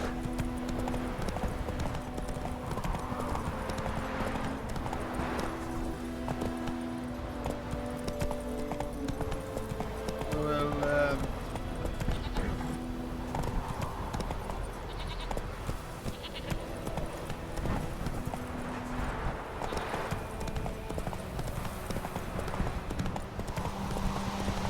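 Roach, a horse in The Witcher 3: Wild Hunt, trots along with steady clip-clopping hooves over a dense game soundscape, with bleating sheep and goats nearby and a busy ambient bed throughout.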